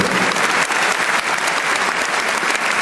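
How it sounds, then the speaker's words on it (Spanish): A church congregation claps together in sustained, dense applause during an evening worship service, loud and close, filling the whole stretch without a break. "Den ese aplauso si quiere al Señor en esta noche."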